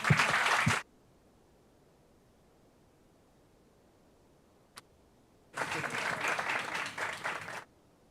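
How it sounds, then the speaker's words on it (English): Audience applause at a waste summit open day in Brasília: a short burst of clapping cut off after under a second, then near silence with a single tick, then a second stretch of applause lasting about two seconds. "I hope that you will give all of them a big hand of applause."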